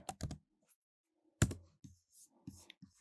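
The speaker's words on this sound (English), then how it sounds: "I'm going to use my keyboard this time." Keys clatter on a computer keyboard in a few short, quiet bursts of clicks separated by silence, close and soft.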